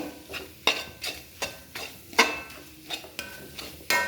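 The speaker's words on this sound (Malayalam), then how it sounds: "നമ്മൾ തുടരെ ഇളക്കിക്കൊണ്ടിരിക്കണം കേട്ടോ കാരണം അടിച്ച് പിടിച്ച് പോകല്ലേ" Curry stirred continuously in a pan, a spoon knocking and scraping against the metal in a steady rhythm of about two strokes per second, close and clear with no voices.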